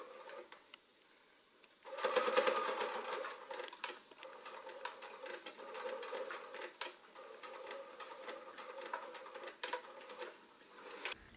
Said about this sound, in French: On réalise la surpiqûre sur les deux côtés, donc à gauche et à droite du rabat.